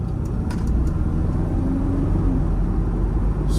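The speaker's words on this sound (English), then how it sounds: "I'm going to show you how the car accelerates." A 1973 Mercedes-Benz 280SE 4.5 with a three-speed automatic accelerates from inside the cabin, a steady low engine rumble mixed with road noise, close and even, with no talking.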